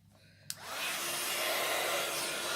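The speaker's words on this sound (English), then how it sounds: "And then I'll just set that with my heat gun." A heat gun melting embossing powder switches on with a click and then blows in a steady, loud, breathy whoosh that continues without pause.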